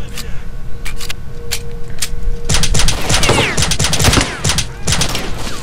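Enemies in STALKER: Shadow of Chernobyl fire at the player, sharp gunshots cracking singly at first and then in a dense, loud volley with bullet impacts close by.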